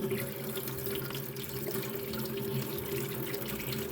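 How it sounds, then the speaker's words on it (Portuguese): Kitchen tap running steadily over blueberries being rinsed for a Russian banana bread, a continuous close splashing water stream without pauses or talk. "vamos lavar o mirtilo"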